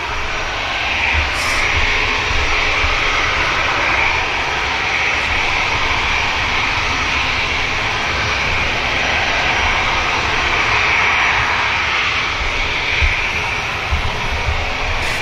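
A Ryanair jet airliner lined up for departure to Copenhagen at Manchester Airport, its engines producing a continuous distant roar and hiss, steady in level with no talk over it.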